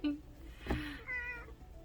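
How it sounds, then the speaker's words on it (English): A house cat gives a short, close meow indoors, a drawn-out tonal cry, with faint background noise around it and no speech during the call. "I have kitty."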